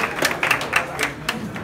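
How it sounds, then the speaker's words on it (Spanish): Scattered applause at a boxing weigh-in, a few separate claps from a small crowd, close and moderately loud. "¡El aplauso fuerte!"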